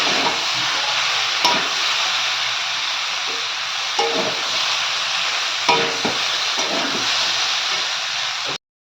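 Fresh yellow cauliflower and boiled potato fry in a pan as sugar is mixed in, a strong continuous sizzle broken by several scraping stir strokes at irregular intervals, with no talking.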